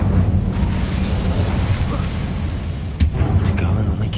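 Incendio fire spell cast in the Hogwarts Legacy video game on PS5: a sustained rumbling, roaring burn with a sharp burst near the end, loud and close.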